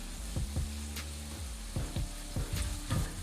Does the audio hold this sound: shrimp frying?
yes